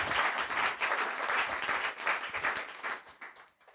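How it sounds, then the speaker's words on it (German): A small crowd at a net-politics evening at MetaLab claps in a brief burst, fairly close and moderately loud, thinning out and fading to silence over the last second. "Applaus"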